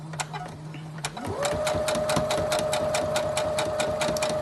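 A sewing machine stitching fabric along a quarter-inch guide starts with a rising whine, then settles into a steady, fast rhythmic hum of needle strokes close by.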